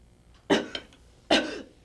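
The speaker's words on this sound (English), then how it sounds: "Simply allow the victim to cough the item out by themselves." Two short, sharp coughs, about a second apart, close by and fairly loud in an otherwise quiet space.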